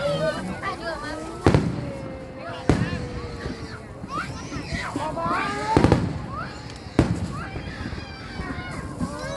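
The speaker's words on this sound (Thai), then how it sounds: "เราหมดจากการจุดพลุ" Fireworks set off at an outdoor festival, with sharp loud bursts every second or so and crackling between them, heard over ongoing crowd chatter and background voices.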